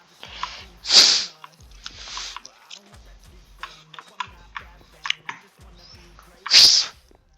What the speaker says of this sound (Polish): Przepraszam, że tak smarkam